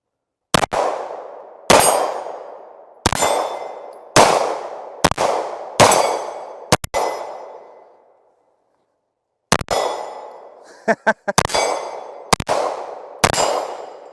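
CZ Shadow 2 pistol shots ring out against steel targets: a dozen sharp reports, each followed by a bright, ringing clang that fades. The shots come in an uneven rhythm, with a pause midway and a quick cluster toward the end.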